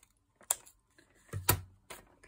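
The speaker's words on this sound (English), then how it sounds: "Let's see if I can cut it this way." Scissors cutting through paper for handmade printed paper bags, a few separate crisp snips and rustles close up, quiet and alone.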